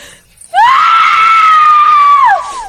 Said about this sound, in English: I screamed, terror swallowing me whole.